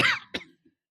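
A man gives a short fake cough, two quick dry bursts close up, followed by a faint trailing sound and then silence.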